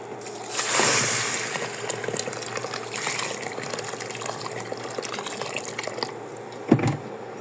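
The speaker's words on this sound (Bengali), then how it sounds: "আর এখানে আমি যে গরম পানি ব্যবহার করব।" Hot water is poured into a pot of rice being cooked for chicken biryani: a steady, close liquid fill that rushes loudly at first, then settles into a continuous splashing stream, ending with a brief knock.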